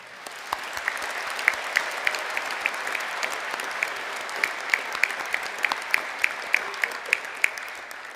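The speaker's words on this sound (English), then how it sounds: "it is only fitting that we give a very big round of applause to everyone who helped make this possible" Audience applause at an Ulster University winter graduation ceremony in Belfast, a steady bed of clapping from a large hall with sharp individual claps popping out near the front, continuing evenly throughout.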